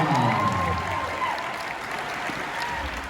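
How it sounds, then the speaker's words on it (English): An audience at a West Coast Swing dance competition applauds the dancers, with sustained clapping and crowd noise running steadily throughout and a voice talking over it. "And how about a round of applause for these dancers?"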